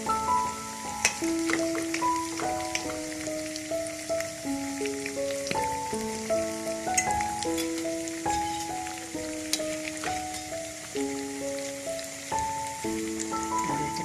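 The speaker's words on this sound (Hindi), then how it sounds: "थोड़े से मैं इनको फ्राई कर देती हूँ" Pakistani-style aloo bonda potato fritters fry in hot oil with a dense, crackling bubble that stays constant and close, partly covered by a melodic music track playing over it.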